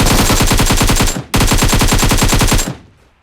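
Rapid automatic gunfire from a video game, two loud, close bursts of evenly spaced shots with a brief gap between them, then a short fading tail.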